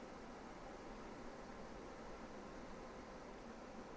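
Cooling fans on a caravan fridge run with a steady, faint, even whir of airflow, with no talk over it.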